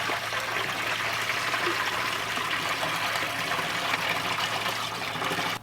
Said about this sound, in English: And pour it in there.